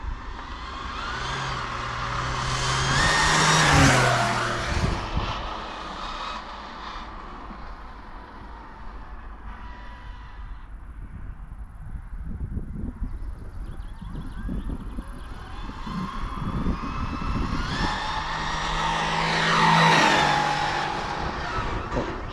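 A Mini Challenge FG race car on an SBR 2.0 chassis roars past twice on a circuit, each pass swelling from far to near and fading, with a softer stretch of engine noise between them and no talking.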